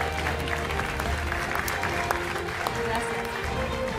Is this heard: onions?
no